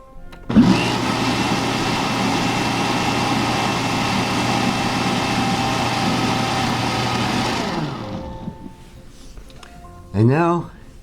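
A blender whirls quinoa salad ingredients with Himalayan pink salt: a loud, steady motor roar holding for about seven seconds, then spinning down and stopping, followed by a brief voice.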